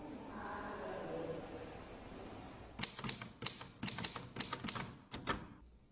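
A typewriter clatters out a burst of irregular keystrokes and carriage sounds, close and crisp, after a quiet stretch of speech and background murmur.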